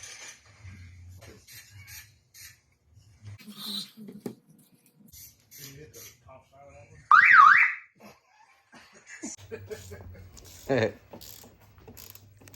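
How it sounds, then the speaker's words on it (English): A short, loud Subaru Justy car alarm bursts out, a warbling siren-like tone lasting about a second, amid scattered mechanical clicks and quiet background noise. "there's an alarm that Joe scared us with."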